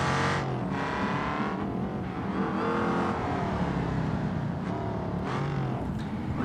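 A race car in BeamNG.drive tears down a straight on a tarmac hill climb, its engine a loud, sustained buzzing whine that rises and dips in pitch as it revs and shifts, close and continuous.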